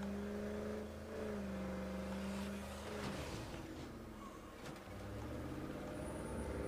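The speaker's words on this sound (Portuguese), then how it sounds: "Esse carro é muito barulhento." A noisy car engine drones and revs steadily in State of Decay 2, its tone shifting up and down before settling into a rougher rumble.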